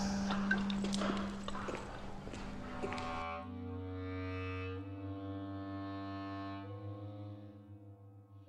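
A black horse walks along, its hooves clip-clopping at a steady pace, followed by a low sustained tonal drone that takes over the second half.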